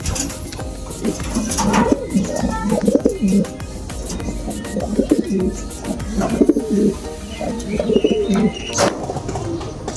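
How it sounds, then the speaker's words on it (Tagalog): Racing pigeons coo repeatedly at close range, soft throaty calls in overlapping bursts, with occasional light clinks and rustles in the background. "Ito ang gandang ibon."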